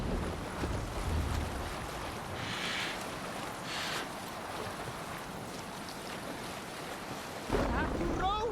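A Viking longship sailing out to sea in Assassin's Creed Valhalla, with steady rushing water and wind over the hull and a louder surge of splashing waves near the end.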